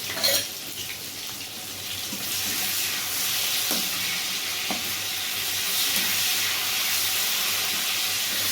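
Tomatoes frying with salt in a pan for a Bengali pabda fish dish give a continuous watery hiss close by, broken by a few light stirring clinks.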